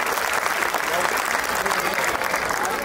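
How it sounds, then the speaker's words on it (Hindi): An audience at a comedy show in Ambala Cantt applauds, a thick, continuous wash of clapping hands, loud and steady for the whole stretch, with a bit of crowd noise mixed in. "क्योंकि तालियों का भूखा होता है कलाकार।"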